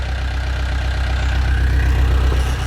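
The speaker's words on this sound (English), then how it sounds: "Engine's been running now, quite a while now, well over half an hour, 40 minutes." A narrowboat engine that may be damaged runs steadily at idle. It makes a low, even, throbbing chug close by, with no voices over it.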